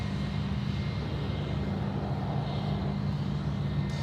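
A steady, loud jet engine roar from an Etihad Boeing 777-300 taking off at Sydney Airport, with a continuous low rumble and broadband rush heard from a distance, and no voices.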